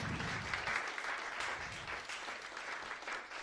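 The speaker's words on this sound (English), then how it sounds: "let's give ourselves a round of applause to the audience" Steady applause from a conference audience fills the room, a dense patter of clapping heard at moderate distance.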